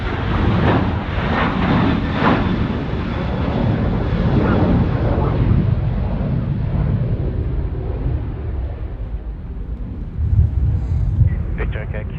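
A passenger jet rolls down runway 34 right at Sydney Airport and lifts off, its engines roaring loud and broad before fading into the distance, with gusty wind buffeting the microphone and air traffic control radio chatter over it.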